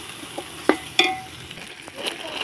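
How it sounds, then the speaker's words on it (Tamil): Tomatoes stirred and sautéed in a pan with chicken, soft sizzling under a few sharp scraping clicks of a spoon against the pan, close and moderately quiet. "அடுத்து தக்காளி சேர்த்து நல்லா கிண்டி விட்டுக்கோங்க"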